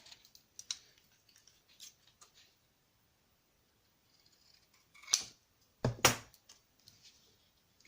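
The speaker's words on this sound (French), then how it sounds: "je vais couper un carré" Scissors snip a small paper square for a handmade Mother's Day card, with sparse light clicks early on, then a few louder close cuts near the end in a quiet room.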